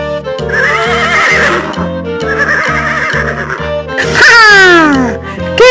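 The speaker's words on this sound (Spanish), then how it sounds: "¿Y cómo hace el caballo?" A farm horse neighs loudly and close, with repeated whinnies over steady clip-clop hoofbeats and a final long, falling whinny.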